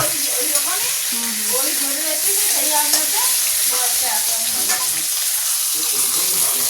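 Fish frying in hot oil in a home kitchen, a steady loud sizzle throughout with scattered crackles and utensil scraping, and faint talk in the background.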